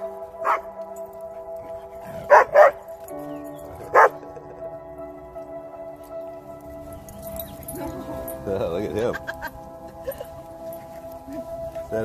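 A collie barks at an off-leash dog park, a few sharp barks in a quick cluster with a single later bark, while other dogs and people move about and voices talk in the background.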